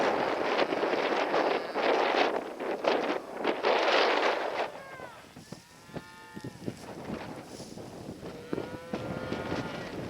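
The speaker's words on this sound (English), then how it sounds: "Cows are excited or something." Several cows moo in long, wavering calls, some overlapping, with gusty wind buffeting the microphone, especially early on.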